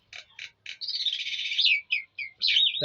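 A pet bird calls up close: a few short chirps, then a longer warbling whistle and more quick chirps, bright and clear.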